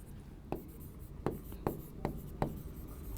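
Chalk or marker strokes on a classroom board as a chemistry formula is written, five or six sharp scratchy taps and short strokes in an irregular rhythm, close and fairly quiet over a faint room hum.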